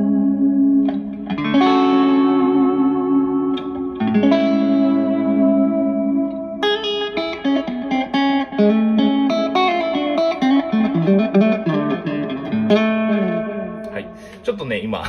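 An electric guitar through a Strymon El Capistan tape echo pedal rings out sustained chords and picked notes drenched in reverb, tails washing into each other, played alone and fairly loud.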